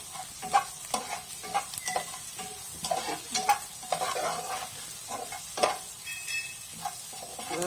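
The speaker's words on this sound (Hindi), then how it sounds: "इसको हल्का सौते करते हैं, फिर इसमें अदरक लहसुन डालते हैं।" Onions sizzle and crackle in a hot pan, with repeated scraping and stirring strokes close by and no talking.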